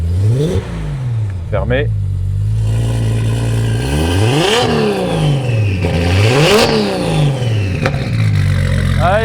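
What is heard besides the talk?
Nissan Skyline R32 turbo engine revving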